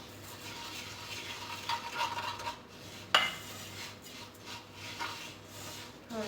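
A utensil stirs olive oil and broth together in a pot, producing soft scraping and light clinks with one sharp metallic knock against the side amid a low background hum.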